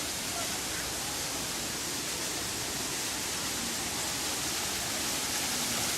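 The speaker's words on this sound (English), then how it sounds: "So right here, there's a waterfall." Waterfall on a stream, a loud steady broadband rush of falling water filling the whole stretch with no breaks.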